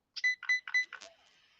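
A Kyosho Fazer Mk2 RC rally car gives four quick, clear electronic beeps in an even rhythm, close and fairly quiet, followed by a faint trailing tone.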